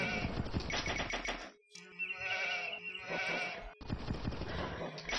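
Bleating sheep sounds from the video game Age of Empires 2 come in bursts, with two brief silent gaps between calls, alongside faint electronic tones.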